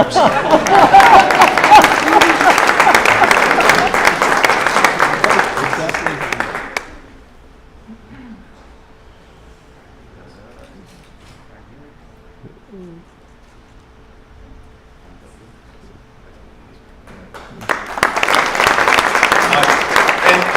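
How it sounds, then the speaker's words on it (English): At an awards ceremony for a DC infrastructure academy, a crowd applauds loudly and steadily for several seconds, drops to near silence with faint background sounds, then breaks into another burst of full applause. "we're going to applaud for my friend"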